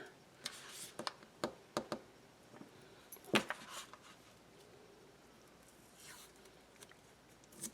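Adhesive tape pulled from the roll and pressed down onto a laminated traveler's notebook dashboard, heard as a series of sharp, close crackling rips and taps spaced over several seconds, with quieter rustling between them.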